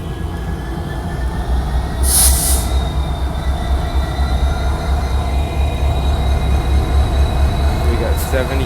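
Norfolk Southern freight K99 rolls through Charlottesville, Virginia, towing a Buckingham Branch locomotive. A loud, close, continuous rumble of rail wheels carries throughout, with thin metallic squeals and a couple of brief hissing bursts.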